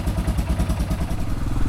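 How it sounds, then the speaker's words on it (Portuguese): A Yamaha Ténéré motorcycle engine idles after restarting, a close, steady throbbing rumble with rapid rhythmic pulses and a little mechanical clatter. "Dei partida no motor de novo, a moto pegou."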